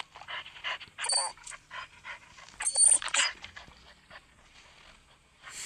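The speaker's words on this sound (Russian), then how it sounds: "Собачка." A small dog in a video game pants in quick, breathy bursts that come and go in clusters, close and fairly clear against a quiet background.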